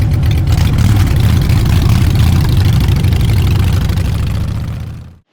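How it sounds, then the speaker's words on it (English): Motorcycles on the Cabot Trail roaring close and loud, a continuous engine drone with heavy rumble that holds steady, then drops away abruptly to silence at the end. "we're attempting the Cabot Trail on the motorcycles again"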